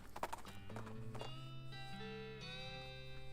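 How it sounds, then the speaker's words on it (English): Ghostly horse hooves from the game West of Loathing, a rhythmic clip-clop of a ghostly translucent horse ridden by a bandit, heard close and clear over sustained game music with a brief whinny-like tone. "A ghostly translucent bandit on a ghostly translucent horse rides up"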